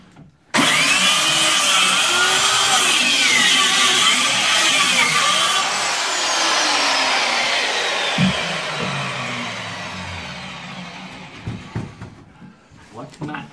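A power saw tears through a sturdy wooden dresser, loud and continuous for most of the span, its pitch shifting as the blade bites, then easing off into scattered knocks and clatter near the end.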